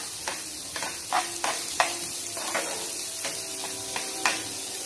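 Onions sautéing with salt in a pan hiss and sizzle steadily, punctuated by repeated scraping stirs of a spatula close by, with no talk.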